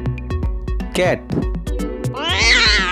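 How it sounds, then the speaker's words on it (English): A cat gives a short meow near the end, preceded by several sharp clicks and taps close by. "Cat."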